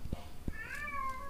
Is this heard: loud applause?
no